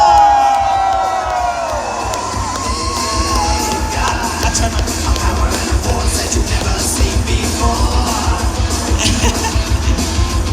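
A large crowd at a fan convention in Ponce, Puerto Rico cheers, yells and applauds for actor Austin St. John, the original Red Ranger, in a loud, sustained roar that carries steadily for the whole stretch.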